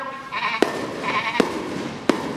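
A sheep bleats in a few drawn-out wavering calls, moderately close, broken by three sharp clicks or knocks, with no talking.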